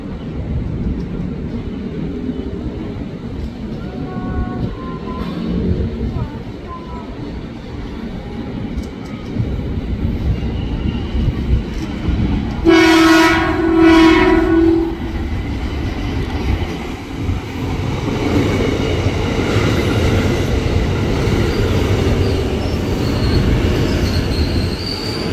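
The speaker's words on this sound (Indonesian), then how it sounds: "Utara kereta api melintas langsung." A KRL commuter train rumbles through Manggarai station on the upper level, a loud steady rolling roar broken midway by a sharp, piercing wheel squeal lasting a couple of seconds.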